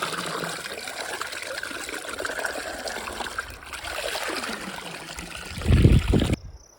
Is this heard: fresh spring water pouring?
yes